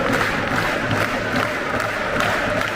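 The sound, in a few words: stadium crowd cheering during football substitution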